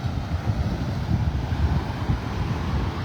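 Strong wind buffeting the microphone on a Florida beach at Delnor-Wiggins in North Naples, a steady low rumbling roar with gusty swells and no voices.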